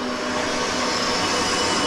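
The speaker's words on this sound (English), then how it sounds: "I don't know if you can hear in the background the lathes going" A lathe runs steadily in a home machine workshop, a continuous mechanical hum and whine with no breaks, fairly loud and close.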